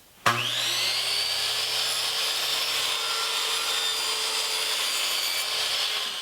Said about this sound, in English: I'll cut a piece of 1/4 inch plywood at 2 1/4 by 6